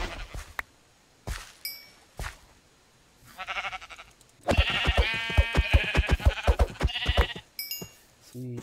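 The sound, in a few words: sheep bleating in the video game Minecraft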